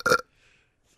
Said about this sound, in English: need to drink more of that energy drink so I can get a burp